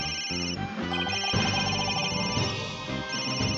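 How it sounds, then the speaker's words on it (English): A telephone rings in a video game, a loud electronic ringtone with bright, repeating tones that fills the whole stretch continuously without pause. "Where's that damn ringing call coming from?"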